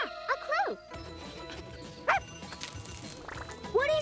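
A sniffer hound in a Berenstain Bears video game gives several short yips and barks, with some whimpering, spread across a few seconds over soft background game sounds.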